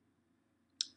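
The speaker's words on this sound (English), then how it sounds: "And then I'm going to click send." A single sharp mouse click sounds near the end of an otherwise quiet second, crisp and close, pressed to send a message.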